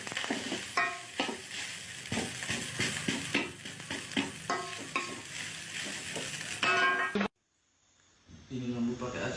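Rice fries in a pan with a continuous sizzle and repeated scraping stirs of a spatula, a voice talking in the background, before a brief sudden cutout near the end.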